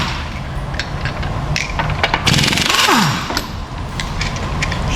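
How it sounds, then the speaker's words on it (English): Wheels coming off a car for an axle repair in a mechanic's shop, with bursts of an impact wrench rattling lug nuts loose over a steady background hum, then a descending whine as the tool spins down, close and fairly loud. "so I'm popping the wheels off"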